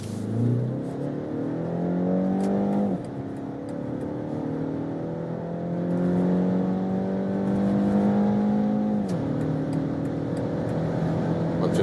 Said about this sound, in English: It was a pretty nice sound, right? So for that 4-cylinder engine